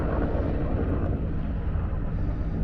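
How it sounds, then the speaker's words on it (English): Several firefighting helicopters fly over a lake and dip in to scoop water during a mountain wildfire, heard as a constant loud rotor and engine roar mixed with wind buffeting the microphone. "There's like a lot of helicopters dipping into this lake."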